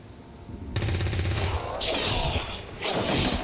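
A soldier fires in the turn-based tactics game XCOM 2, giving a short loud burst of rapid gunfire followed by crashing impact noise and ringing metallic debris, with no talk over it.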